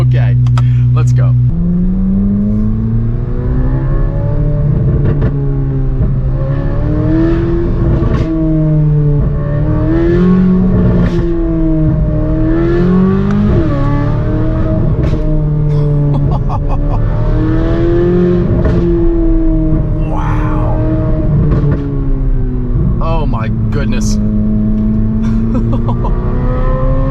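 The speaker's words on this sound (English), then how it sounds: "Now we are in the loudest mode. The exhaust, the engine sound is in the loudest mode." A Corvette C8 Z06 with a titanium race exhaust, valves fully open in its loudest mode, revs hard and accelerates through rising and falling gear pulls, loud and close for the whole stretch, with a voice reacting over the engine.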